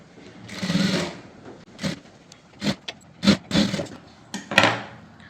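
A sewing machine stitches down a folded front edge of a blouse in short, uneven bursts of whirring separated by brief pauses, close and fairly loud with no talking.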